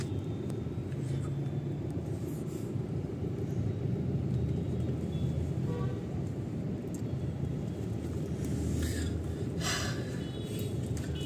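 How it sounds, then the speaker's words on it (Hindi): Heavy weekday midday traffic on MG Road in Bangalore forms a continuous low rumbling drone of engines, with a few brief sharper sounds cutting through toward the end. "आज बहुत ज्यादा ट्रैफिक है"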